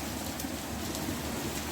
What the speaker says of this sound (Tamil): மழையை ரசிச்சுக்கிட்டு இருக்கேன்